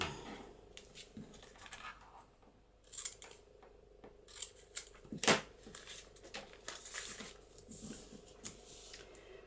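Scissors snip and trim paper for a handmade journaling booklet, with a series of close, crisp cuts and light rustling between them in a quiet room.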